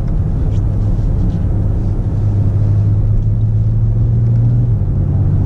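A BMW X5 M50d with its quad-turbo diesel engine pulls under part throttle at low revs, a loud, steady low rumble with a droning engine note heard from inside the cabin, continuous and without talk.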